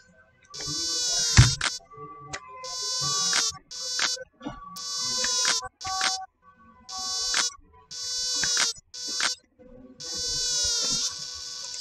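Mosquitoes in a Scratch video game give a series of sharp, high, whining buzz bursts, each lasting about a second, repeated in an irregular rhythm with short silent gaps between them.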